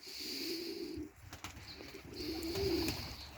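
Soft, low pigeon cooing comes in two bursts over a steady hiss of background noise, with faint rustling in between.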